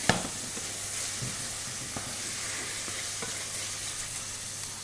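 Onions fry in a pot, a soft continuous sizzle and hiss close by, with a faint clink at the start and a few light stirring taps scattered through, no talking.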